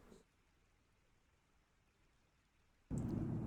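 Radstorm rain and thunder in the Fallout 4 video game, heavily modded survival mode: a faint low rainy rumble that suddenly surges into a loud, dense roar of thunder and rain near the end.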